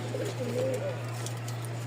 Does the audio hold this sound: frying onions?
no